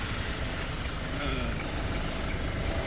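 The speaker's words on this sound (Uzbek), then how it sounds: "Ko'rishingiz mumkin, motorlarning ovozi yaxshi, normalniy." A 2018 Hyundai Porter manual truck idles with its engine running, giving a steady, unbroken mechanical rumble and hiss at close range with no change in pace.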